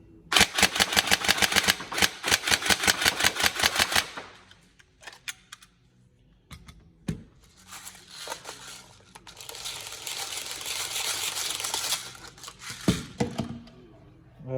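A Tokyo Marui M4 NGRS airsoft electric gun fires a rapid full-auto burst on a range, a loud fast rattle of shots lasting about four seconds, then scattered clicks and handling noise with a long hissing stretch.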